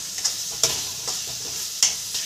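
Boiled chickpeas being stirred into fried masala in a pan, with a steady sizzle and several distinct scraping strokes of the spoon, close and fairly loud, no talking.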